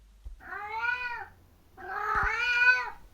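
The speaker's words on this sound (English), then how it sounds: "He sat on one of the steps, mewing pitifully for his mother." Two plaintive kitten mews, close and clear, the second longer and slightly louder, separated by a short pause.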